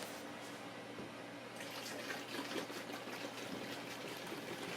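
Water pours from a plastic gas container into a tank for mixing ethanol-free gasoline, a soft steady trickling stream that grows a bit fuller partway through, faint and close with no talking.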